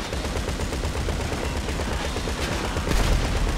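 Rapid automatic gunfire in the video game GTA V Online, dense continuous bursts of shots, loud and close, with no talking.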